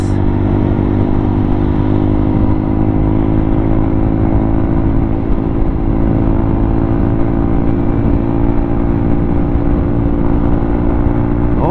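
A motorcycle engine runs loud and close, holding a steady throaty rumble with continuous revving and rattling throughout.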